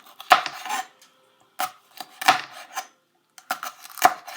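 A knife cuts through a bell pepper on a cutting board, giving a few distinct sharp knocks and crisp slicing crunches in separate bursts, close and clear with silence between, no speech.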